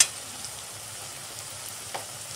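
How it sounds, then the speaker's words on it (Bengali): Onion and tomato frying in oil in a pan for a chicken curry, a steady soft sizzle throughout with a faint stir or clink near the end, no voices. "পেঁয়াজ আর টমেটো তেলে দিয়ে দেবো।"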